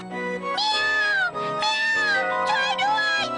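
A cat meows repeatedly and loudly up close, several drawn-out, rising and falling cries in quick succession.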